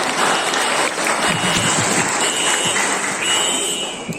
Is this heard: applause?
yes